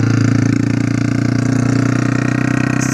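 A Honda Start 160 motorcycle with a straight exhaust pipe idles loud and close, a rough, steady throbbing rumble that holds even without revving.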